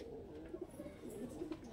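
Green Eyes Madras pigeons, home-bred, coo softly and steadily at a moderate distance, their low throaty calls rolling on continuously with a few faint higher chirps above.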